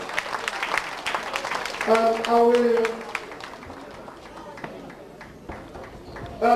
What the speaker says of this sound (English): So can we give a round of applause to all of us for being on the high table, please?